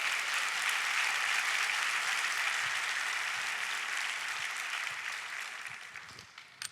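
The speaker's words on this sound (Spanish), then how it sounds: "Aplausos a Cristo, gloria a Dios" A church congregation claps steadily, a dense wash of applause that holds for several seconds and then slowly tapers off, with no voices standing out.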